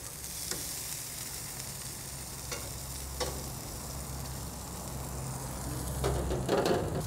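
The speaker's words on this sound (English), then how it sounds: "we got a good looking sear going on there" Fish fillets searing in oil on a hot griddle for chipotle lime fish tacos, giving a constant close sizzle with a few sharp crackles and a low hum beneath, no voices.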